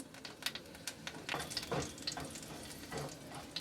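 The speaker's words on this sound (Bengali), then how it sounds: "ওই তেলটার মধ্যে একটু কালো জিরে দিয়ে দেব অল্প করে লঙ্কা দিয়ে দেব" Nigella seeds and chili hitting hot oil for a Bengali mullet fish curry, crackling and sizzling with sharp pops and bursts of spattering, close up and continuous with no talking.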